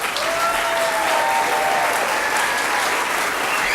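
A live audience claps on cue, a loud, dense wash of applause held steady for the whole stretch, close and continuous with no pause.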